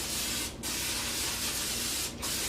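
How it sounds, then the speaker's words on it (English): Cooking spray hisses into the bottom of a baking pan in two long, close, steady bursts, each broken by a brief pause. "We're going to spray some pan spray in the bottom of that, or any cooking spray that you have"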